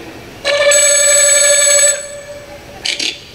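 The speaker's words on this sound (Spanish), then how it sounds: "Sonaba el teléfono." An old dial telephone bell rings once in a loud, sustained electric trill lasting over a second, followed by a brief second burst of ringing, close and alone.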